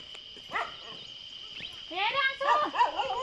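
A dog at a village home in Uttarakhand gives several short, high yips and whining barks, coming in bursts, faint but clear against a quiet background.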